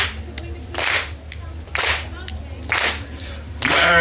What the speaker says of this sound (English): can you give me a beat as well, please? Can you clap your hands like this?